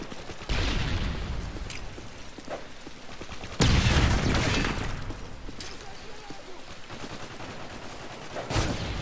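Gunfire in Call of Duty Modern Warfare 3 online multiplayer: dense bursts of weapon shots with a louder impact blast midway, set in ongoing game noise, moderately loud, with no clear speech over it.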